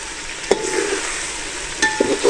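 Beef frying with ginger in a pot for golden beef yakhni pulao: a steady close sizzle, with two sharp clinks of a spoon at the start and later a few more stirring clatters.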